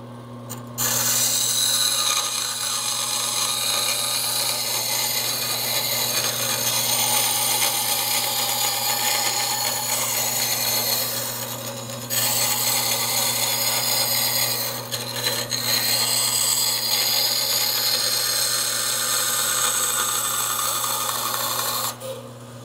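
An old dull, toothless bandsaw blade cuts a thicker piece of metal by friction, making a loud, continuous harsh rasping roar that runs almost without a break, dipping briefly twice before stopping.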